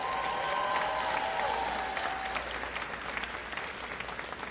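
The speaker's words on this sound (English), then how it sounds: "That deserves a round of applause." A large crowd applauds at a high school commencement ceremony, steady dense clapping filling the hall from start to finish, fairly distant and evenly sustained with a brief faint tonal whistle early on.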